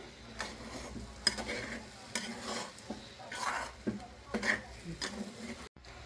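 Upma being stirred in a pan with ghee and chopped coriander, the spoon scraping and clattering in repeated bursts over a soft, steady sizzle, close by with no talking.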